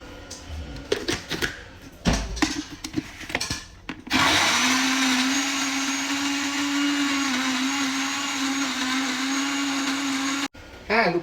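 A blender grinds ginger with oil while cooking Minang-style chicken gulai, starting with a few short rattling pulses and clatter. It then settles into a loud, steady motor whir that runs for several seconds before cutting off abruptly near the end.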